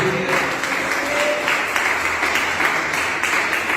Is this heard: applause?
yes